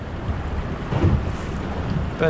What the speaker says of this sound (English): going down the wind with the waves, you might need to go as slow as the engine will idle